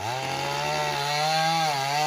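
A chainsaw cutting ash wood while firewood is gathered, its engine holding a loud, steady, close buzzing whine that shifts slightly in pitch as it bites, with no voices.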